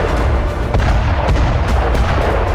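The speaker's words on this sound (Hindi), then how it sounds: "यूक्रेन की फौज M777 तोप का इस्तेमाल कर रही है।" Ukrainian M777 howitzer artillery firing near Bakhmut, heard as loud booming blasts with a sharp report under dense, continuous rumbling noise.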